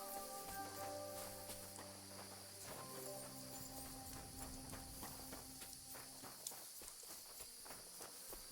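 Horse hooves clip-clop at a steady walking pace in Kingdom Come: Deliverance II, faint and soft beneath sustained musical tones.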